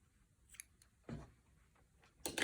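Scissors cutting quilt binding fabric at a quarter inch, a few quiet, close snips spaced apart, with a louder rustle at the end.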